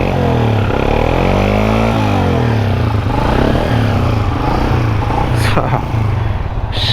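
A restored kick-start Honda CG 125 motorcycle idles and revs loudly up close, its exhaust giving a throbbing, rising and falling note with clattery engine texture throughout.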